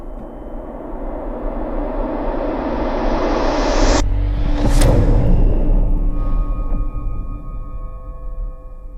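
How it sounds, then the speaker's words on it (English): A noir-style cinematic trailer composition built in Cubase 11: a dense, dark swell rises steadily to a sharp whooshing hit midway, then settles into a heavy, sustained rumbling tail with no voices. "this is the first time I'm gonna hear my brand new trailer sound design composition"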